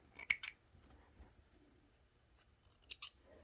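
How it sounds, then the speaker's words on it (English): Scissors snip off leftover threads from a repaired machine-stitched seam on a sewing sample: a couple of quiet, close cuts near the start and another pair near the end, with faint background hush between. "I'm going to trim the threads that are left over from where I repaired my stitching here"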